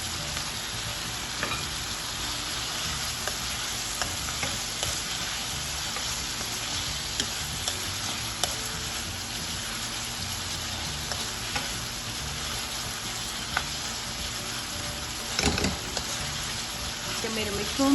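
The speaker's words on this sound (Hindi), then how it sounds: "जब मेरे मशरूम्स और चिकन दोनों फ्राई हो जाएंगे, चिकन मेरा फुल कुक हो जाएगा" Mushrooms and chicken frying in a pan for Chinese fried rice, giving a continuous soft crackling sizzle with occasional utensil clicks and scrapes, moderately quiet throughout.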